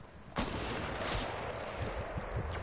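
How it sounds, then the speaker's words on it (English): A sniper rifle shot in the video game Fortnite cracks sharply and is followed by a rumbling tail, and fainter distant gunfire thumps come after it. The whole thing sits at a low level. "And one of them just got sniped."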